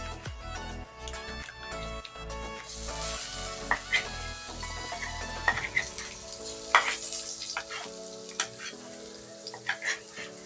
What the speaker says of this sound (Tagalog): Guys, nagpainit na tayo ng kawali. Ilagay lang natin yung butter.